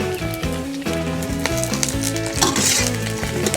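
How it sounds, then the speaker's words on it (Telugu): Curry leaves and chopped green chillies fry in hot oil in a pan for Andhra-style green chilli chicken, a loud, continuous close sizzle with occasional stirring scrapes and music underneath. "కరివేపాకు, పచ్చిమిరపకాయలని ఫ్రై చేసుకుందాం"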